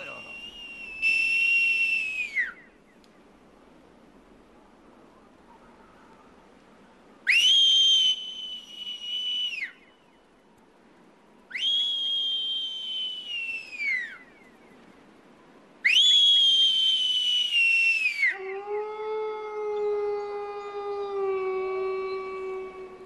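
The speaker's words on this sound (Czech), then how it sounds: "že bys uměl pískat na prsty" Several loud, sustained shrill whistles made with fingers in the mouth, each lasting a couple of seconds with pauses between, followed by a lower wavering tone like a howl.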